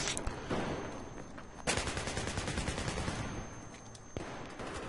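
Rapid automatic gunfire from a weapon in Battlefield 3, dense bursts that pause briefly and resume, loud and close over a busy battle background.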